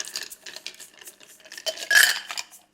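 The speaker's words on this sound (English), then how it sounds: "Give it a little stir." A spoon stirs a Michelada of beer and ice in a glass, quick clinking and rattling of ice and cutlery, close and brief with a brighter clatter near the end.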